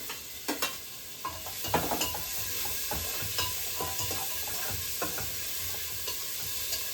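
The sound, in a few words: onion and green chillies frying in a pan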